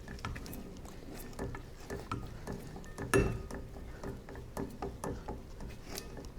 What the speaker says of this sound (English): Keep on spinning your rotor.